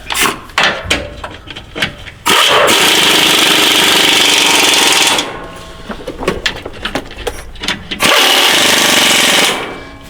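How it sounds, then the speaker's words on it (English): Impact wrench driving nuts onto a GM 6T70 transmission during installation, firing in two loud sustained bursts of about three seconds each, separated and framed by clanks and shuffling of tools. "These two can be installed with an impact."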